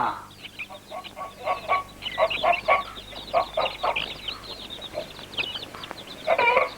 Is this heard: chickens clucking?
yes